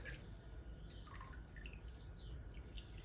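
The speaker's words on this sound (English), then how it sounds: "The relay is triggering the water pump." A small relay-triggered water pump waters plant soil, giving soft, quiet drips and trickles over a low, steady hum.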